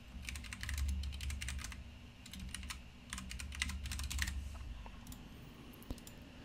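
Computer keyboard keys clatter in quick bursts as code is typed, close and fairly quiet, with short pauses between runs of keystrokes over a low room hum.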